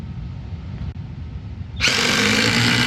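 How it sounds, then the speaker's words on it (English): A cordless impact driver bought at Home Depot spins up abruptly after a low rumbling lead-in, then runs at a steady, loud, high-pitched whine to the end with no talking. "This is an unbelievable drill."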